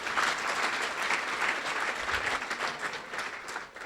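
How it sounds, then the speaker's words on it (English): An audience of about 220 people at a chamber of commerce meeting and awards event claps steadily, a dense wash of many hands applauding together that gradually thins toward the end. "give yourself a round of applause"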